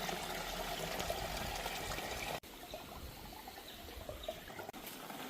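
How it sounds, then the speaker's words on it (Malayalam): Clay-mixed water strained through a white cotton towel, a soft continuous trickle and patter of liquid at close range, steady apart from two brief drops in level. "ഈ മിക്സ് ചെയ്ത് വെച്ച വെള്ളം നമുക്ക് അരിച്ചെടുക്കണം"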